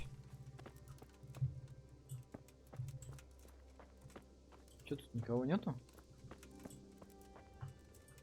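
Horse hooves in Kingdom Come: Deliverance, a quiet scattered clip-clop on a horse ridden at a slow walk, beneath a man's short spoken line and some background clicks.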